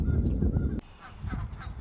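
Wild geese honk loudly and close by in a short burst of overlapping calls, then quieter honks continue faintly in the background.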